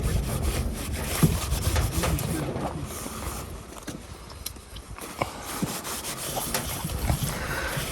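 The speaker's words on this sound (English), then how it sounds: "we're going to clean the inside lip with some brake cleaner" A rag with brake cleaner wiping the inside lip of a Jeep Wrangler differential, steady close scrubbing and rubbing strokes with a few scraping accents, continuous and moderately loud.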